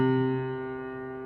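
Bass clef C played again on a piano keyboard, one sustained low note struck once and left ringing with a gradual fade, near and unaccompanied.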